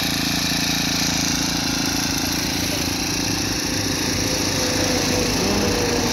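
Petrol-fuelled grass cutter run by a toll gate crew in Kadapa, its small engine buzzing steadily and continuously at moderate volume, close by, with no talk over it.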